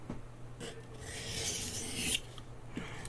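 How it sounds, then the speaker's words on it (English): A knife edge is drawn across a Baryonyx Arctic Fox sharpener to remove the burr, making a close, quiet rasping scrape, one long stroke with softer strokes around it and no talking. "So now let's remove the burr."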